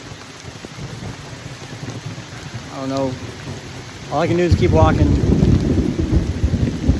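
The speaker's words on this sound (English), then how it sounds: "the rain's only gotten harder and the thunder's gotten closer" Rain storm with thunder on a long-distance trail hike, a steady downpour with deep rumbling swelling louder in the second half while someone talks briefly close by.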